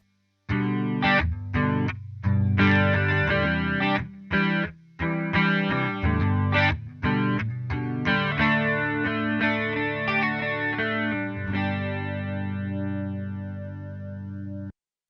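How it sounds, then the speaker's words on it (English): An electric guitar runs through a Coppersound Polaris chorus pedal with rate at 25% and focus at 60%, playing shimmering chords and notes in rhythmic bursts, then ringing out into a long, fading sustained chord. "I want the chorus effect to shine a bit more, to blend a bit more into my guitar tone"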